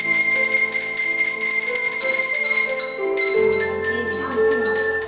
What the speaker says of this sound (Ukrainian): почули, як злагоджено репетирує оркестр дзвоників вихованців дитячого садку